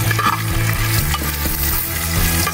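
Peanuts being stirred and toasted in a frying pan sizzle steadily while a spoon scrapes and rattles them in rhythmic strokes, close and loud with no talking.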